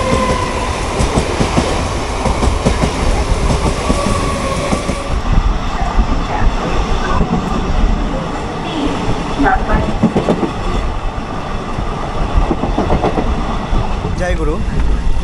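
Maa Tara Express, train 13187 with ICF coaches, runs at about 100 km/h near Dum Dum, giving a loud steady roar of wheels and rail rumble heard from on board, with faint clickety-clack throughout.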